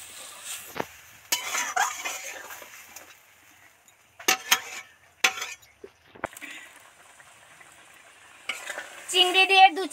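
Curry stirred into just-fried prawns in a pan for a Bengali ol chingri dalna: close, clattering bursts of spoon against metal over a low sizzle, coming in uneven spells with quiet gaps between.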